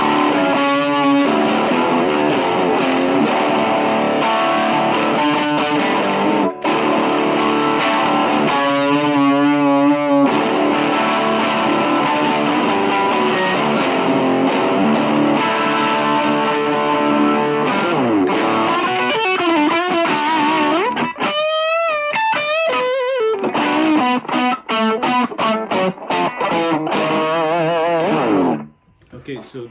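A 2020 Epiphone Les Paul Classic electric guitar played through a Rabatec Audio Omega Drive overdrive pedal, giving loud, sustained distorted chords and riffs with bends and fast picked runs. It plays continuously and then cuts off at the end.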